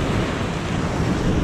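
Rough surf breaks along the shore at Salalah, Oman, a continuous, loud roar of churning waves with wind buffeting the microphone and no voices.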